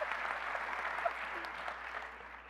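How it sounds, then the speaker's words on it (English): Applause from the audience at a 2017 Hall of Fame ceremony, a steady, moderately faint patter of clapping that lasts throughout with no break. "So let me give you a big clap."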